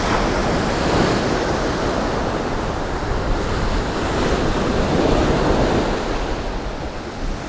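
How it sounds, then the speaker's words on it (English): Ocean surf rolls onto the beach at Bell Harbor in a steady, loud wash of noise with wind buzzing the microphone, continuous and without a break or voice. "I'm here in Bell Harbor today by the beach."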